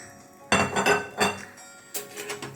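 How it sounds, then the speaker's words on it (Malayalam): Metal spoon scraping and clinking against a pan as flattened rice (aval) is dry-roasted until crisp, in a few loud bursts of clatter with short pauses between. "എന്നിട്ട് ഈ അവിലിനെ നമ്മൾ നല്ല ക്രിസ്പി ആയിട്ട് വറുത്തെടുക്കണം."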